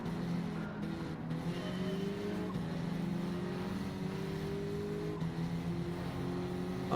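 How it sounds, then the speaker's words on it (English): A turbocharged race car engine in Gran Turismo 7 drones steadily at high revs, its pitch climbing and shifting through gears, loud and continuous with no talk over it. "I'm going to short shift the high RPM turbo and see if that changes anything for me. I've been revving it out."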